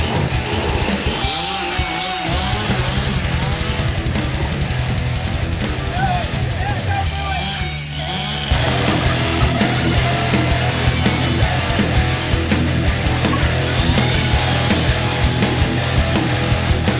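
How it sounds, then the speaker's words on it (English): A chainsaw runs loud and steady at close range for the whole stretch, its whine dipping briefly once before picking back up, with a voice faintly under it. "Dad, what are you doing with the chainsaw?"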